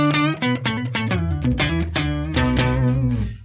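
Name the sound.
electric guitar through octave pedal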